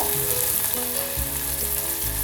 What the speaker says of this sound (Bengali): ভালো মতো ভাজতে হবে পেঁয়াজটাকে ব্রাউন কালার করে পেঁয়াজটাকে ভাজতে হবে